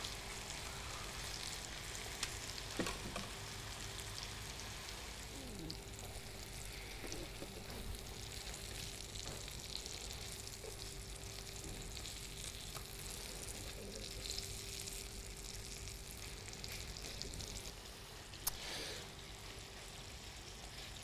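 A haddock fillet fries in a pan with a faint, steady sizzle that carries on unbroken. A few small ticks sound over the hiss, and no one speaks.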